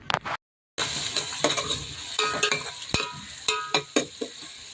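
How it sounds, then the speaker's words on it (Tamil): Sliced onion and green chillies sautéing for mutton biryani, a steady sizzle under repeated spatula stirs and clinks against the pan, close and wordless, with a brief silent gap near the start. "அந்த வெங்காயம் நாலு பச்சை மிளகா போட்டுட்டு நல்லா வதக்கி விட்டுடலாம்"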